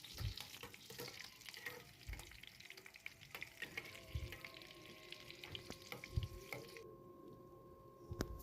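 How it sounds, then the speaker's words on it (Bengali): Dried red and green chillies frying in hot ghee for a winter vegetable khichdi, giving a steady, close crackling sizzle with occasional sharper pops and faint stirring, no voices over it. "ঘিটা আমি গরম হয়েছে, এর মধ্যে 3খানা আমি শুকনো লঙ্কা দিয়ে দিলাম, আর কাঁচা লঙ্কাও দিলাম 3-4টা মতন"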